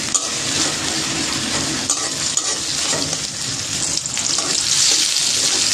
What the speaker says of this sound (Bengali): এবার পেঁয়াজ কুচিগুলো কিছুক্ষণ ভেজে নিতে হবে।